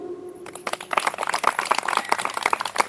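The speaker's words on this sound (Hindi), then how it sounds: "ताली तो बजाओ" An audience claps at a spiritual discourse in a hall in Ashoknagar, Dhule, a dense, steady patter of many hands starting after a brief pause and continuing at even loudness.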